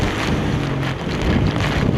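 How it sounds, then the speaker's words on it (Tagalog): Strong typhoon wind in Baguio City roars and buffets the microphone continuously, a loud, gusty rush with low rumbling throughout and no voices. "Lakas ang hangin."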